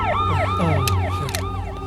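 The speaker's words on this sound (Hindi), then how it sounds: "एम्बुलेंस है भाई।" A loud ambulance siren cycles through quick up-and-down wails, with a couple of sharp clicks and a low engine hum beneath it.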